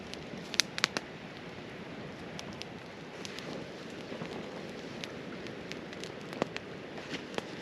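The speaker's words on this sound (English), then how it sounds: "We've been rained out, and you can maybe hear the rain." Rain falls in the Alaska backcountry during a Dall sheep hunt, making a faint, continuous patter with scattered sharper drop ticks and no talking.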